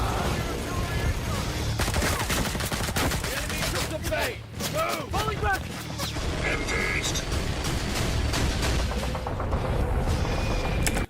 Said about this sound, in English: Oh, they're mortars.